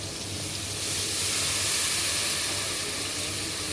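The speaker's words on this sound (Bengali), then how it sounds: "আর এখানে একটু পানি দিয়ে দিব" Raw banana and rohu fish curry hisses and sizzles steadily in the pan after a splash of water is added, a close, even, broadband sizzle with no voices.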